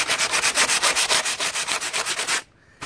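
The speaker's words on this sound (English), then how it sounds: "This stuff actually sands really well, and we're just getting rid of some of those bumps" Styrofoam prop coated in tile mortar gets its edges sanded by hand in steady back-and-forth strokes, a loud, close, rhythmic rasp of about a dozen passes that stops abruptly near the end.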